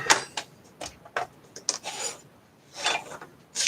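Small metal screws rattled and rummaged by hand while setting up SCSI peripherals on an IBM computer, heard as close, uneven bursts of scraping and clinking separated by short pauses, with no speech.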